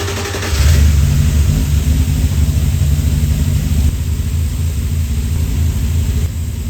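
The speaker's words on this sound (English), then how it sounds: "now we can start the car and we can observe what's going on here" A car engine turns over and settles into a steady, loud idle with a low rumbling drone that holds evenly with no voices over it.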